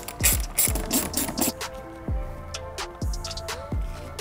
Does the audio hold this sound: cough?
no